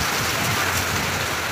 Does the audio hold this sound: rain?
yes